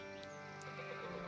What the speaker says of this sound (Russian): Сейчас еще коз приведем.